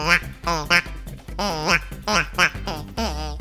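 A duck-call sound effect in the video game KarmaZoo gives a series of loud, nasal, voice-like quacks in irregular bursts.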